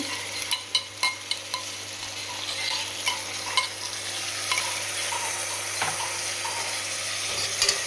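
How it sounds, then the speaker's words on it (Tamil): Onions fry until brownish for chicken biryani, a spatula clacking sharply against the pan several times early on, then a continuous sizzle with occasional stirring scrapes, close up and without talk. "நல்லா ஆனியன் கொஞ்சம் ப்ரௌனிஷாக ஆகிற வரைக்கும் நல்லா ஃப்ரை பண்ணுங்க."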